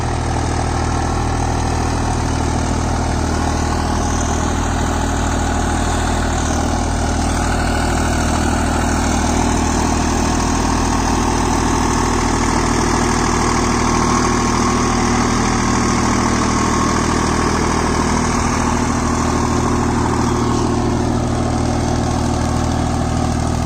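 A Solis 5024S 4WD 50 HP tractor with a rigid cultivator runs steadily, a loud continuous diesel engine drone with a deep, even rumble that holds for the whole stretch, close up and with no talking.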